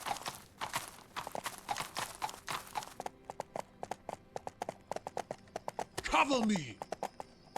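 Horse hooves in a video game clip-clopping in a quick galloping rhythm, close and clear, ending with a brief whinny-like cry.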